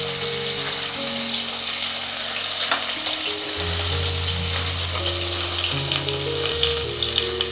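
Grated ginger and chopped green chilli frying in a pan, a loud, constant hiss of sizzling oil with an underlying hum, uninterrupted and close.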